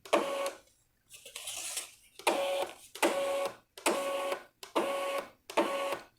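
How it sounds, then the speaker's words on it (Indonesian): A thermal receipt printer feeds out paper in repeated mechanical whirring bursts, about six rhythmic pulses separated by brief pauses, close and clear with no talking. "jika kalian tekan tombol pip, dia akan keluar perlahan seperti ini kertasnya."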